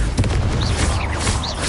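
Confringo blasting spell in the video game Hogwarts Legacy, loud booming bursts with crackling, whooshing magical effects, close and dense over a short span.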